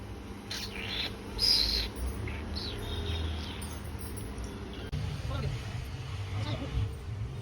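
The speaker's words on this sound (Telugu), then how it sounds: "చూడండి మా పిట్టను ఎంత మంచిదో" A pet bird gives a few faint, short chirps in a home kitchen, heard under steady talk and background noise.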